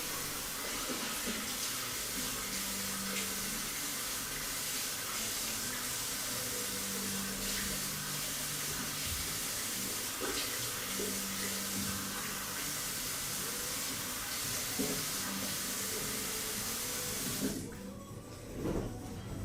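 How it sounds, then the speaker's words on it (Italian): Cold tap water runs steadily into a basin for rinsing, a continuous close hiss that stops near the end. "io andrei a sciacquare con l'acqua fredda subito"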